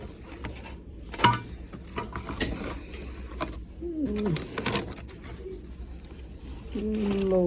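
Pigeons coo in a coop kept with young squabs and fed chickpeas, several soft, rolling coos surfacing at intervals over a busy background of rustling and scattered knocks.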